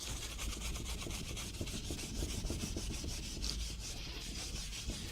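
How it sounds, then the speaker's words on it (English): Steady abrasive rubbing and scrubbing on an old, very dirty car wheel rim as tar residue is worked off, a continuous close, dense scraping texture with no pauses. "now you just go over it again, and then all the tar residues will come off"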